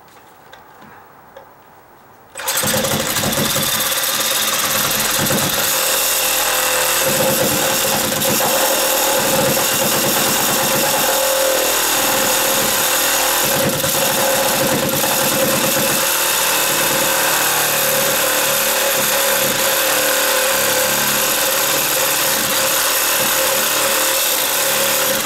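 A power saw cutting into a dry-rotted 2x6 deck step riser: after a quiet start, the saw starts abruptly and runs loud and steady at close range, with a sustained whine and rapid rattling for over twenty seconds.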